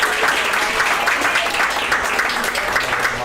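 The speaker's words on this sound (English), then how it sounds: "So we want to give them a round of applause" Audience applause fills a school end-of-year program, a steady wash of many hands clapping at an even, sustained loudness, with no speech over it.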